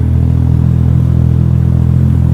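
Yamaha Kodiak 700 ATV engine idling steadily close by, a continuous low rumbling drone with an even mechanical patter and no revving or speech.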